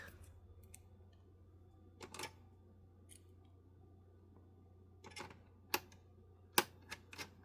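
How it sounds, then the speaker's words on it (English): Small, sharp clicks come from a screw being twisted backwards into its mount during reassembly of a Dell OptiPlex 7470 all-in-one PC. A few faint ticks sit over a low steady hum in a quiet room, with sparse, irregular spacing. "Same thing, I twist it backwards to hear it click."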